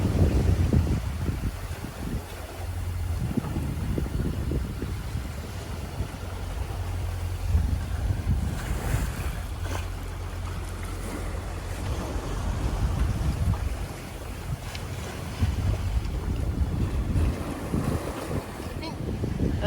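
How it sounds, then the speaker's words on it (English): Ocean swell and waves wash around a sailboat rolling at sea, with constant rushing water and heavy wind buffeting the microphone in uneven gusts. "There's quite a swell."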